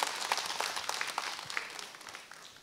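A television singing-contest audience claps in steady applause, bright and sustained, gradually tapering off toward the end.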